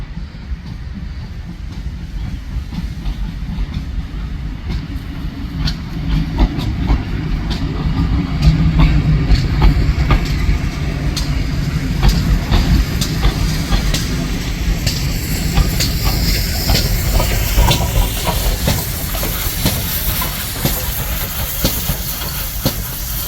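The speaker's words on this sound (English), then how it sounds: "it was time for the steam engine to go out on another run" A steam locomotive at Didcot Railway Centre pulling out on a run, with a loud rumbling chuff and hiss close by and a clatter of wheels and couplings that builds and holds over the stretch.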